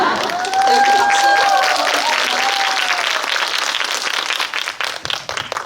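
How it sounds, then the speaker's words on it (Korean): Audience applause at a Busan International Film Festival guest-visit screening of Hellbound 2, dense clapping with a whistle and some cheering early on, tapering into thinner scattered claps toward the end. "네, 박수."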